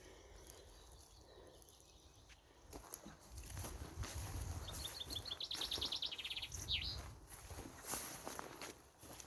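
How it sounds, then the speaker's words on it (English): Small bird singing outdoors along an old tramway path between Gallatown, Kirkcaldy and Coaltown of Wemyss, bright chirps and a quick trill rising over rustling footsteps and light wind. "There's a bird."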